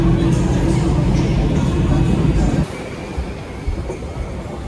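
A metro train rumbles loudly into a station, steady low roar that drops off partway through, leaving quieter platform ambience.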